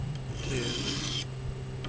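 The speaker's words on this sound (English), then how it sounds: "I'm gonna go ahead and sharpen this little Swiss Army knife" A small Swiss Army knife blade is sharpened with a raspy, scraping stroke lasting about a second, close and moderately quiet, followed by a brief faint scrape.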